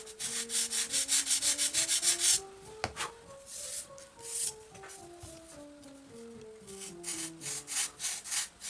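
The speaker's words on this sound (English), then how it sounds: "I'll just sand these edges too." Balsa wood glider parts being sanded by hand along their edges, a quiet, close, rhythmic scratching of short back-and-forth strokes, faster at first, then slower and uneven.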